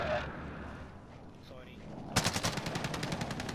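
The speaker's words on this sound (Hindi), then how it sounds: "बुखारी की गोलियां लगी हैं" Gunfire in the Call of Duty Warzone video game, a sudden rapid burst of automatic shots about halfway through that continues in even repeated cracks, with a voice talking over a dull background rumble.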